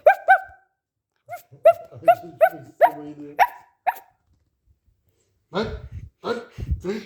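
A dog barks in a quick series of sharp, close barks, then pauses before a few more barks and whines near the end.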